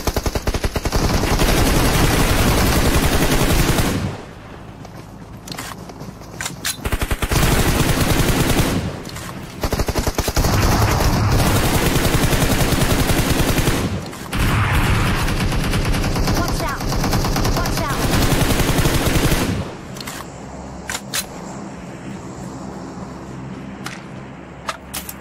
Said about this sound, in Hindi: पाशा भाई स्नाइपर शॉट आया कहीं से